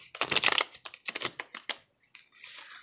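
A deck of tarot cards is shuffled close up, giving quick bursts of crisp riffling and papery flicks that end in a softer brush, with no voices.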